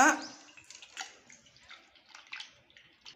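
Tamarind water is strained in a home kitchen, with a brief splash of pouring liquid followed by soft, scattered drips and trickles close by.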